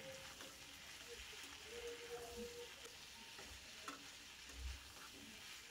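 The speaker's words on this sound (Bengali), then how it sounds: "চিংড়ি মাছটাকেও সবজির সাথে ভেজে নেব 2 মিনিটের মতো" Shrimp and vegetables frying in a pan while being stirred, giving a steady, close sizzle with intermittent stirring scrapes and a few soft clunks throughout.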